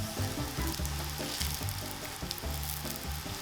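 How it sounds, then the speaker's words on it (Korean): Rice cakes pan-fry in oil, crisping on one side, with a constant close sizzle. Faint, rhythmic scraping or stirring sounds run underneath, and no one speaks. "떡이 구워질 때 보면 약간 물 끓는 소리라고 할까?"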